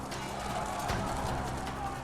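Massed cavalry hoofbeats from a Total War game battle, Macedonian horsemen clashing in a large melee against Roman forces, a dense continuous rumble of galloping and clip-clop with battlefield noise throughout.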